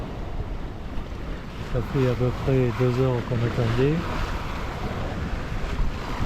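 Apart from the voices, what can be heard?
wind and waves on the open ocean from a sailboat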